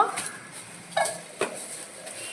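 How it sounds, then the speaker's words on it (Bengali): Rice grains are tipped into a cooking pot in a home kitchen, producing a few light metallic clinks and rattling taps against the pot, quiet and close with soft scraping between. "এই যে আমি এখন হাঁড়িতে চাল নিয়ে নেব"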